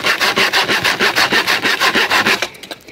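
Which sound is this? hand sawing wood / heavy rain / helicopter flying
hand sawing wood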